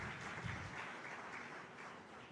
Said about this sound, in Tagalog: Pumalakpak ng malakas sa ating mahal na Panginoon.